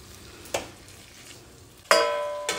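Masala frying in a kadai under a low sizzle, broken by a few sharp clanks and scrapes of stirring that ring out briefly, with no talking.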